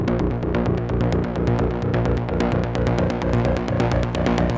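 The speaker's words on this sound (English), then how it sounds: "second bass line that I use, that I think is an arpeggio" EQ'd arpeggiated bass line from a Diva software synth in a techno track: a fast, even, repeating pulse of bright plucked notes that plays loudly and continuously throughout.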